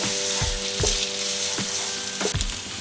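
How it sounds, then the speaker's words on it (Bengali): Taro leaves sizzling in a pan over a medium flame are stirred with a utensil, which scrapes the pan in a few regular strokes over a continuous frying hiss, with no one talking. "সমানে কিন্তু এটাকে নাড়তে হবে যাতে সবগুলো মিশ্রণ একসাথে ভালো মতন মিশে যায়"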